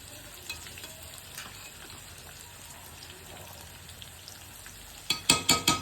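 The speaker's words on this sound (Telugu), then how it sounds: "ఫ్రై అయిపోతుంది. ఒక పక్క మన పులుసు కూడా మరిగిపోతుంది లైట్గా." Rohu fish frying in a pan for an Andhra-style fish fry, a soft steady sizzle with faint stirring scrapes, ending in a few sharp clattering knocks near the end.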